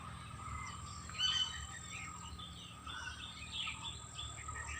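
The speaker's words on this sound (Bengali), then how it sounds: "গাছে গাছে কিচিরমিচির ও কলরব টানে" Birds chirp and call from trees in a rural Assam village before rain, a soft continuous chatter of small overlapping tweets at moderate distance with faint insect hum beneath and no talking.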